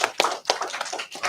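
Audience at a religious holy-day gathering clapping, a short burst of sharp, uneven claps spaced a few per second, moderately loud.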